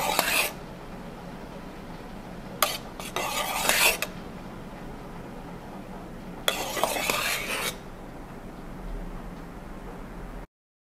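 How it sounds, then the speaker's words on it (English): Foamed milk spooned onto a cappuccino in an 8-ounce to-go cup made with instant coffee, heard as a few short scraping, rasping strokes of a spoon against the cup over a quiet hiss, with no talking. "we are going to put foamed milk on top"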